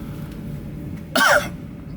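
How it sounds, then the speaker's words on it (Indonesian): A single short, sharp cough with a throat-clearing rasp sounds close by from a rider out on the road, rising briefly above a low steady background hum. "tenggorokan dari tadi nahan batuk mulu"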